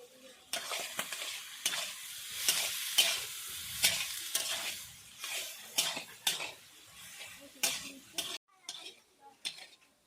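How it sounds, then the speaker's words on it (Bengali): Onions and chopped green chillies fry in a pan under a soft sizzle, broken up by a series of scraping stirs and clinks of a spatula against the metal, close and uneven in rhythm. "পেঁয়াজগুলো ভাজা হয়ে গেছে"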